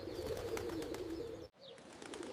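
Pigeons coo in low, rounded, repeated calls close by, with an abrupt brief cut partway through before the soft cooing resumes.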